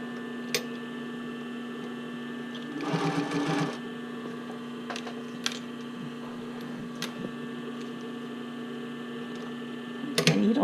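Sewing machine stitching bra cups into the band, a steady motor hum with a short burst of rapid stitching followed by faint isolated clicks and ticks from the machine.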